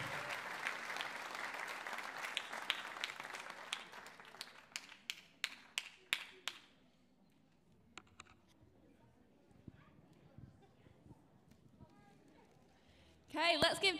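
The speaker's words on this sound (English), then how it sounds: "let's give Georgie another round of applause" Dense audience applause after a performance at the Northern Composure Unplugged Finals 2021, loud and sustained for several seconds, then thinning to a few scattered claps before near silence and a brief burst of noise at the end.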